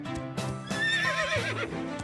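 A cartoon horse gives a bright, wavering whinny that rises and falls over about two seconds, loud and close, with a soft clip-clop of hooves beneath it and no talking.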